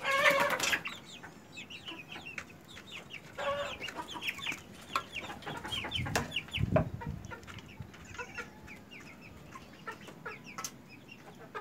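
Black Australorp hens about 75 days old cluck and chatter in short, uneven bursts, with an occasional rustle or flap of wings. The sound is close and moderately loud, with no one talking.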